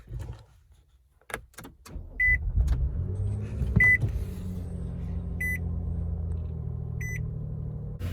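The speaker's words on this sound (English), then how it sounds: "we're going to start the Nissan up and run it for about 30 seconds to a minute" A 2013–2020 Nissan Pathfinder 3.5L V6 starts after a few key clicks and settles into a steady low idle, with periodic short dashboard chimes over the engine hum, close by, no talking.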